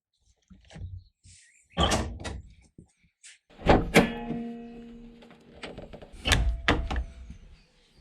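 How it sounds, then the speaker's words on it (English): AeroCatch hood pin catches being closed on a car bonnet, producing a series of solid mechanical clunks and snaps in separate bursts, with a brief metallic ring after the loudest latch. "when we close the catch on it, that secures the bonnet directly down to the chassis"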